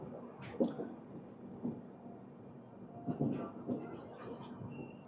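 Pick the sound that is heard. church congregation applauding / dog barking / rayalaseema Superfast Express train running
rayalaseema Superfast Express train running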